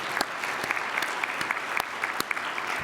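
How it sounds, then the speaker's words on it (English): An audience applauds steadily, a dense patter of many hands clapping at an even level for a few seconds. "please everybody acknowledge them with an applause"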